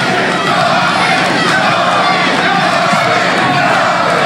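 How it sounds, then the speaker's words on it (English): Boxing arena crowd roaring and cheering for fighter Tony Thornton of Glassboro, New Jersey, a steady dense wall of crowd noise throughout. "Crowd even starting to get behind Tony Thornton."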